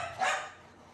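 A dog in a house gives a single brief bark, fairly faint and a little distant, fading quickly into quiet room tone.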